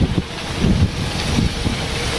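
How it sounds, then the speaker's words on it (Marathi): A large waterfall at Pratapgad fort gives a steady, loud rushing roar, with gusts of wind buffeting the microphone throughout and no talking. "समोर हा अतिशय सुंदर मोठा धबधबा"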